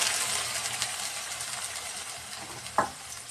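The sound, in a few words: banana blossom frying in a pan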